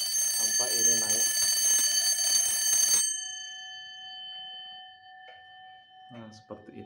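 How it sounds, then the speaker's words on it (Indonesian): A bright, dense mechanical alarm bell of a Frisian Dutch tail clock (staartklok) rings continuously for about three seconds, then stops abruptly; faint metallic ticks and short clinks follow in the quiet aftermath. "Nah, seperti itu alarmnya."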